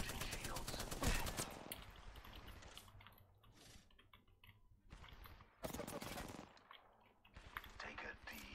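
Bursts of gunfire from the video game Apex Legends, with sharp repeated shots clustering around the start and middle, mixed with clicking game effects and intermittent voice chatter over the action.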